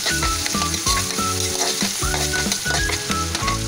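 Garlic and onion are being sautéed in a pan for pancit Malabon, with a constant loud sizzle and repeated scraping stir strokes in a regular rhythm. No voices are present.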